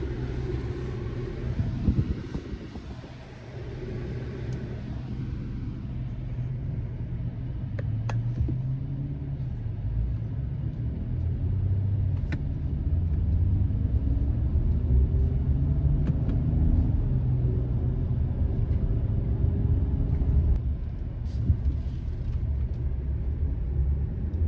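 A 2022 Nissan Frontier SV crew cab pickup truck drives uphill with a steady engine drone and a deep road rumble. The drone rises in pitch as the truck gains speed, heard from inside the cab.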